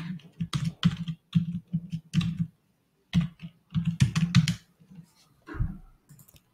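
A name is typed on a computer keyboard as distinct clicking keystrokes in quick irregular runs, close and clear, with a short gap midway and no talk.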